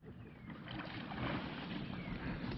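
Kayaks paddle out from a launch area on a spring morning, with a dense wash of water splashing and wind noise that stays fairly steady throughout.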